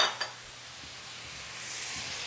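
A soy, citrus and chili-flake sauce hits a hot pork and broccoli stir fry: a quick splash, then a steady, rising sizzle and hiss with no voices.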